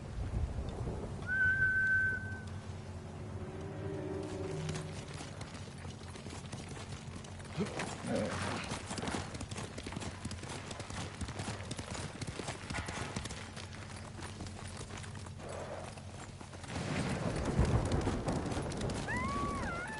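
Horse hooves gallop in a steady clip-clop rhythm in the video game Ghost of Tsushima, with music and ambient game sounds underneath and a short whistle-like tone near the start.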